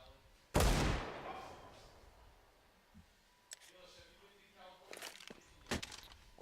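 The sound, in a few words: Desert Eagle pistol shots in Counter-Strike video game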